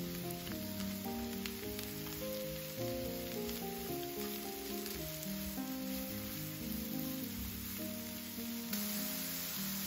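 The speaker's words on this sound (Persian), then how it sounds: "قارچ رو هم میاییم با پیاز ها تفت میدیم" Sliced onions and mushrooms sauté in a pan for chicken stroganoff, giving a soft, steady sizzle under quiet background music, with no speech.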